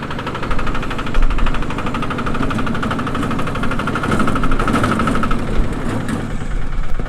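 A dumper truck loaded full of sand, fitted with a diff-lock rear axle, roars and revs hard as it strains up a sand pile, a loud, rough, steady engine drone with surging throttle near the microphone.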